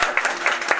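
Brief burst of applause at a wedding, a dense patter of many hands clapping, close and fairly loud.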